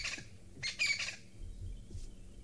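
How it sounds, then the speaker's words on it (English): Crested francolins calling in the African bush during a live safari drive, a loud burst of harsh, rattling squawks near the middle, then fainter scattered calls over quiet outdoor background. "You can also hear the crested franklins making lots of noise"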